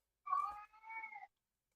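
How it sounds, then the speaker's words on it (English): An unhappy cat gives two drawn-out meows in a row, close and clear, the first louder and the second trailing off, with nothing else heard around them. "I hear an unhappy cat."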